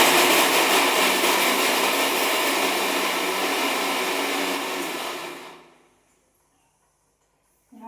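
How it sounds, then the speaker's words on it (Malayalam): A mixer grinder whirs loudly and steadily, crushing pieces of coconut with cumin, then winds down and stops around the five-second mark, leaving near silence before a faint clatter at the end. "ഇനി നമുക്ക് ഒരു മുറി തേങ്ങ, ഒരു ജീരകം 1/4 ടീസ്പൂൺ ഇട്ടിട്ട് ഒന്ന് അരച്ചെടുക്കാം"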